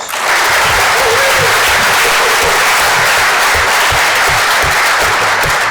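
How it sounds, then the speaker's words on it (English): Applause from an audience at a police commission meeting honoring three police officers, steady dense clapping that fills the room loud and continuous from start to finish. "Let's give them a round of applause."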